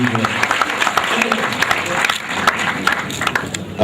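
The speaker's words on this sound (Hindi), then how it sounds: "आप जोरदार तालियों से सतीश निगम साहब के लिए" Brief round of audience clapping at an Urdu press club conference in Kanpur, with distinct individual claps over a crowd, moderately loud and irregular.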